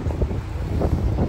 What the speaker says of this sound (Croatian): Ne znam koliko čujete, ali baš puše.